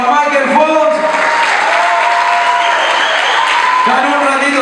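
Applause from a crowd at a salsa farewell show, steady clapping and cheering lasting the whole stretch, with voices and singing threaded through it.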